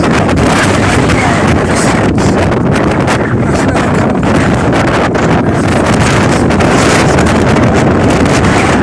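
Strong wind roars steadily across a cold moorland hilltop on Bleaklow in the Peak District, buffeting the microphone in a loud, continuous rush with gusty surges throughout.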